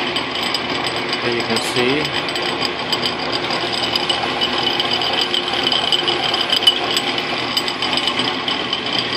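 A Logan lathe mills a nut for an AXA-style tool holder with steady, close, rattling chatter and grinding of the cut throughout. Brief speech comes near the start.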